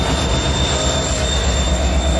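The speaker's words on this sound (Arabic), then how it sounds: "قبل 880 متر من الوصول يبدأ القطار شوي شوي يوقف لأنه يحمل عدد كبير من البضائع." A heavily loaded freight train slows toward a stop, giving a loud, steady rumble of rolling wagons with a sustained high wheel squeal running through it, close by and with no voices.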